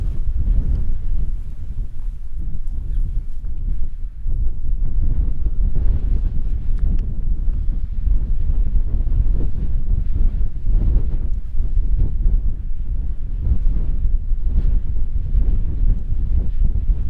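Strong gusts buffet a tent at a campsite, a heavy, continuous low rumble of wind battering the fabric and microphone, loud and close throughout with no voices.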